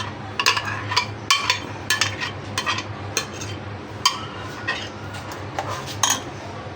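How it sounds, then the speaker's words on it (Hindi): A metal utensil scrapes around a cooking pot while making mango kheer, producing a quick series of clinking strokes, close and fairly loud. "अच्छी तरह से बर्तनों को साफ़ करेंगे।"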